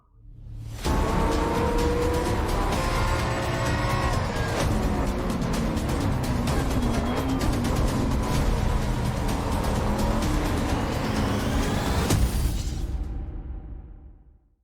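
Race car engine in the Assetto Corsa Competizione sim racing game, a loud continuous high-revving drone with rising and falling pitch through gear changes, occasional tire squeal and whooshes, running for about twelve seconds before fading out.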